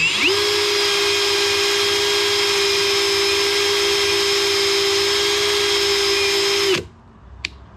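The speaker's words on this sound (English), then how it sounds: "I like to clean it up with this little Scotch-Brite pad so that I can see the height of the" A Scotch-Brite pad held against a spinning RC car tire driven by a motor, a loud, steady whirring hum with a hissing scuff layered over it, lasting nearly seven seconds before it cuts off abruptly.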